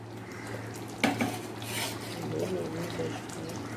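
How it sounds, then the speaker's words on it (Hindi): Fried fish slides into cooked masala in a pan, with a soft clatter of utensil against metal and a low simmering hiss, fairly quiet over a steady background hum. "अब इसमें फिश डालेंगे।"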